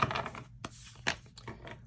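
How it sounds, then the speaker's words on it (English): Tarot cards being shuffled by hand, close and crisp, with a few quick riffling bursts and light snaps separated by short pauses. "we'll do 2 more shuffles here if nothing pops out"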